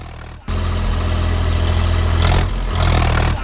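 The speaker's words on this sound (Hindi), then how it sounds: "किसान जिस ट्रैक्टर से खेत की जुताई कर रहा था, उसी ट्रैक्टर से उसने हाथियों को खदेड़ना शुरू कर दिया।" A farm tractor engine runs loud and close as a farmer drives it to chase a herd of elephants out of a sugarcane field. Its steady low drone has two brief dips, and no one talks.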